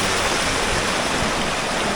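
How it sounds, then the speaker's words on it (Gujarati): Madhuvanti river stream in the Gir forest rushing steadily over rocks, a dense, constant close-up roar of flowing water with no voices. "ખરેખર આ નદી કેટલી સુંદર છે"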